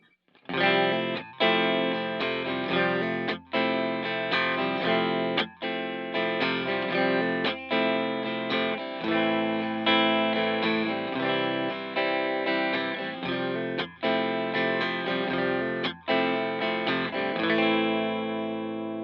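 Reverend Trickshot electric guitar played with the pickup selector in the middle position, both pickups wired reverse-polarity for hum cancelling; a loud, steady run of distorted chords with chorus, short gaps between strummed phrases, no talking.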